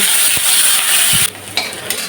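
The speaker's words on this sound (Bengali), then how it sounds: "দিয়ে ভালো করে ভেজে নেব" Loud, hissing sizzle of onions frying in hot mustard oil in a kadai, briefly broken by a few scraping stirs before the crackle fades slightly.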